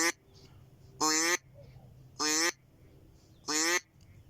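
Three separate nasal quacks from a duck call imitating an older hen duck, each about a third of a second long, evenly spaced with quiet gaps, close and loud.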